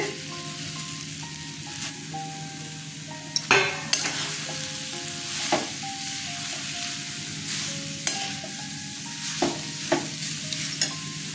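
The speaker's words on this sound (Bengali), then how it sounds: "মশলাটা কষানো হয়ে গেছে, পেঁপেটা ছেড়ে দিচ্ছি।" Papaya pieces go into a sautéed spice paste and fry, a loud continuous sizzle broken by repeated scraping and clattering of a spatula stirring in the pan.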